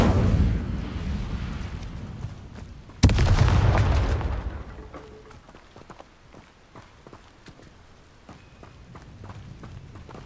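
In Hogwarts Legacy, the Incendio fire spell goes off as a sudden loud burst partway through, cutting through steady game noise and trailing into scattered crackles and footfalls.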